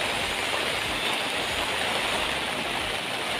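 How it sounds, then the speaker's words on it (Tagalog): Sudden, dense rain by the sea roars loudly without letup, a constant wash of noise with no voices. "lakas ng ulan, bigla talaga sa umulan"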